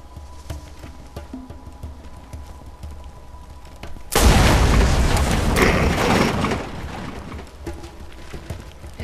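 A racer vehicle in the Borderlands video game explodes with a sudden loud, deep boom, followed by a few seconds of roaring, crackling burning that slowly fades, over quiet game ambience.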